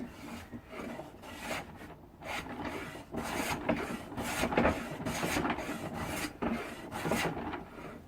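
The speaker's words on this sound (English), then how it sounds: "let's hollow grind that and see what happens" A tapered plane iron being hollow ground for an infill jack plane produces a steady, quiet rasping grind with rhythmic strokes rising and falling, and no talking.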